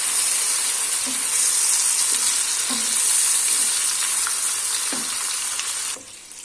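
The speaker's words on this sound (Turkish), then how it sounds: "Öncelikle şöyle bir kavuracağız." Ingredients for chicken pilaf sauté in a pan with a loud, steady sizzle and hiss, broken by a few soft stirring knocks, up close with no talking.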